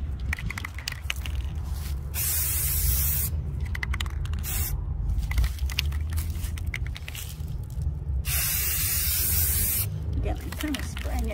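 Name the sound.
spray paint can spraying glass jar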